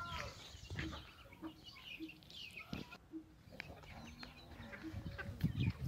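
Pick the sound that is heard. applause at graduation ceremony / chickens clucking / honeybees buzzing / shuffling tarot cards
chickens clucking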